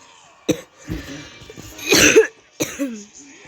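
A person with a cold coughs close to the microphone, with three or four sharp separate bursts and some rough throat clearing between them, amid faint short electronic tones.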